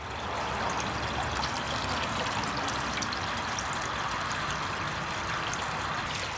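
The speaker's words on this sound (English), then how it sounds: "We're putting a little bit more water in there." Water pours steadily into a fish pond holding an albino clown knife fish, a continuous, close gushing and splashing with no voices.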